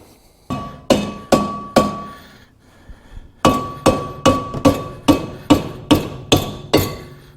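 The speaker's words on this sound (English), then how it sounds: "So I think I'll grab a rubber mallet just so I don't damage that rotor." Rubber mallet striking a brake rotor on a Mazda 3 to knock it loose, a series of sharp ringing metallic hits, three spaced blows then a faster run of about a dozen.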